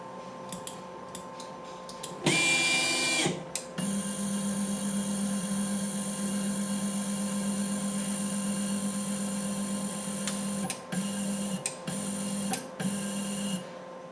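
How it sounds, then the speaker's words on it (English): A 3D printer's stepper motors, driven by TMC2130 drivers in hybrid threshold mode, home with a steady whining hum broken by short buzzing bursts and brief tonal pulses near the end, close and alone. "you've heard the sound of the homing in a variety of configurations, but we haven't yet done it with hybrid threshold mode."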